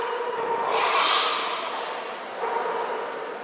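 A Basenji at an indoor dog show gives a drawn-out yodel-like vocalization that swells and then fades, followed by a second softer rise, over a steady hall hum.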